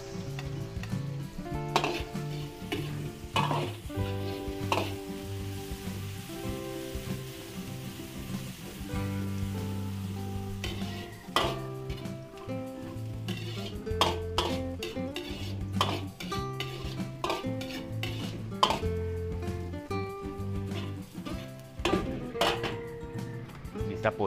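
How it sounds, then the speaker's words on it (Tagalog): Onion and garlic sautéing in a pan give a steady, close sizzle with stirring, running under a voice and background music. "pag mabango na po ang bawang, lagay tayo sibuyas"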